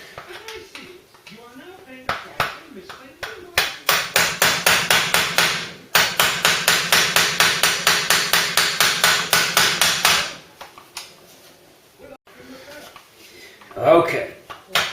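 A screwdriver is hammered repeatedly to knock loose an anti-theft bolt on a Ford Cortina, a rapid run of sharp metallic strikes in two long bursts, with talk in between.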